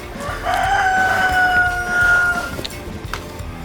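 A rooster crows in one long drawn-out call over a busy farmyard background of clucking hens and scattered knocks.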